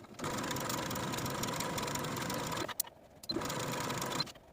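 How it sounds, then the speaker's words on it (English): A sewing machine edge stitching close to the inner fold of a blouse hem, a steady fast mechanical whir running continuously for several seconds, then pausing briefly before starting again, with no talking. "I'm going to take the blouse to the sewing machine and edge stitch close to that inner fold"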